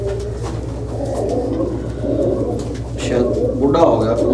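Domestic flying pigeons kept by a pigeon fancier coo steadily and close by, a continuous low burbling over a constant low hum, growing slightly louder toward the end.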